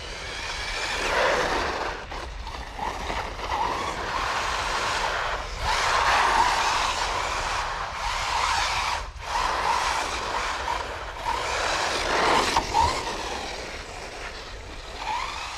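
A WLtoys 104001 RC car drives through long, uncut yard grass, its electric motor whining steadily and the tires brushing and swishing through the blades, with brief dips in power; no one speaks.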